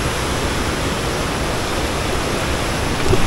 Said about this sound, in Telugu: మన కింద ఉంది వాటర్ ఫాల్